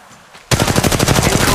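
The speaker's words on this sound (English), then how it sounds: "I am taking fire" Rapid automatic weapon fire erupts abruptly in Apex Legends Mobile after a brief quiet moment, a loud, dense, rattling burst of shots that continues without pause.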